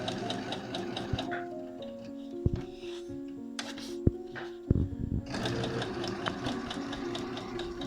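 A sewing machine stitches fabric in sustained mechanical runs with a rapid ticking hum, pausing briefly midway with a few clicks before stitching resumes, close and steady.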